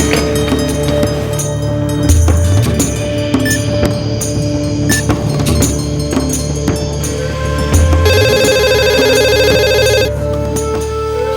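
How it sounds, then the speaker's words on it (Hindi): A mobile phone rings loudly in a school staff room, its melodic ringtone repeating steadily for several seconds without pause; no one speaks. "वो स्टाफ रूम में आपका मोबाइल बज रहा है"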